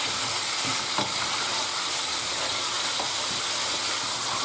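Pork loin pieces sizzle and fry with garlic in a large pot, a loud, steady, close hiss with a few faint clicks of stirring.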